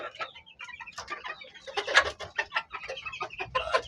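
Backyard pullets, young chickens, clucking and chirping in quick overlapping calls, several birds close by with no talk.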